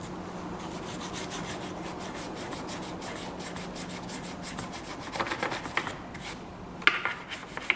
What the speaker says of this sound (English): Harbor Freight trusty throwaway scrubber brush. It just lifts it right off.